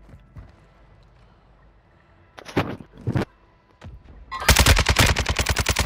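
Gunfire in a video game shooter: a few scattered loud shots, then a sustained rapid automatic burst with evenly spaced, close, punchy reports that runs to the end.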